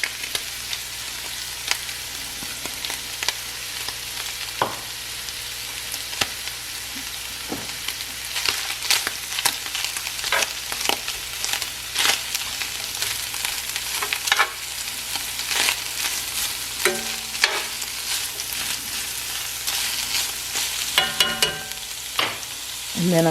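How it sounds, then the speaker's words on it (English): Onion added to a pan of browning meat for low-carb chicken and rice, sizzling continuously with scattered crackles and stirring clicks, close and steady, no speech. "So I'm going to add the onion."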